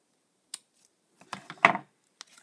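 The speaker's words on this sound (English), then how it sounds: "And let's get my scissors" Scissors make a few crisp, close snips while trimming a gift bow, separated by short quiet gaps, with no talk.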